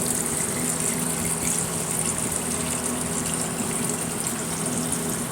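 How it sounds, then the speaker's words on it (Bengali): Cold water runs and splashes as a face is rinsed just after waking, a constant rushing gush heard close up with no talking. "মুখে একটু ঠান্ডা জল দেব"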